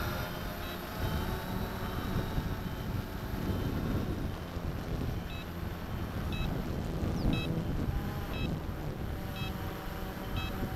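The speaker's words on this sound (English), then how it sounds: "bit of a breeze here while I'm flying" Steady wind buffeting a microphone outdoors while a Cheerson CX20 GPS drone flies, a continuous low rumble with faint repeated beeps near the end.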